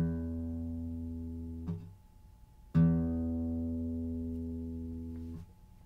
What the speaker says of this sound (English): I'm going to take that same string and I'm going to pull it with the same force out from the guitar towards you